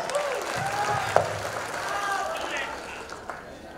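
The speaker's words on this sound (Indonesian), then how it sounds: "Beri aplaus." Audience applause at a team gathering meeting, a broad steady wash of clapping from a crowd lasting the whole stretch, with a sharp louder clap standing out near the middle.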